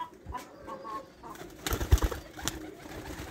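Baby pigeons, mostly Teddy breed with a few Cheena crosses, give soft, quiet coos and rustles with a brief wing flutter near the middle, close by and faint.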